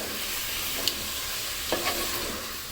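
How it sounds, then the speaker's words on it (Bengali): Beef pieces frying with onions in a pan, a constant close sizzle broken by a couple of brief scraping stirs, with no one talking. "এখন মাংসটা একটু পেঁয়াজের সাথে কিছুক্ষণ ভেজে নিতে হবে"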